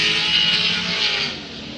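A Formula Drift Pro 2 car in qualifying at Atlanta roars loudly and steadily, its engine note easing slightly as the driver lifts off the throttle through the horseshoe, with broad raspy tire and exhaust noise throughout.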